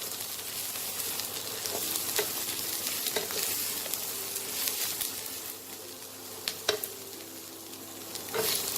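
Ginger and vegetables fry in a pan with a continuous moderate sizzle and occasional sharp stirring scrapes against the metal.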